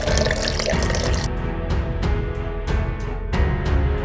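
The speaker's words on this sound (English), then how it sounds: "You can cover the fillet with water." Tap water runs steadily from a kitchen faucet, filling over a cod fillet as a loud, continuous rushing stream with faint splashing pulses and no speech.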